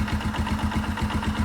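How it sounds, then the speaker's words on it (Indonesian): A Yamaha Scorpio motorcycle engine idles steadily nearby, a low, even chugging pulse with no voices. "kita dengarkan suara mesinnya"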